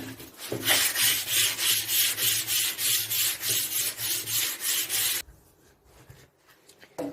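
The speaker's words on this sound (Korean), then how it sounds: "문질러 주셔서 표면에 상처가 나지 않고 곱게 연마가 될 수 있도록 할게요." An old vanity is hand-sanded with 220-grit rubber-backed sandpaper over dried filler coat, giving steady rhythmic back-and-forth rasping strokes for about five seconds, close and loud, before dropping to quiet handling noise.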